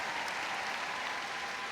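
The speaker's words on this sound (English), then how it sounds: "Give them all a big round of applause." Steady, dense applause from an arena crowd at Crufts for freestyle heelwork to music handlers and their dogs, a continuous wash of clapping with no voices on top.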